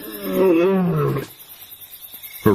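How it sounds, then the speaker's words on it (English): A lioness lets out a long, deep, loud roar that fades into quieter breathy grunts, heard close in the open wild, with a short call returning at the end. "Her roars are heard"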